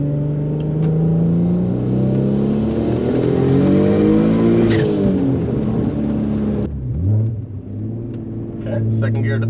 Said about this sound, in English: Okay, second gear to third. I can try a no lift.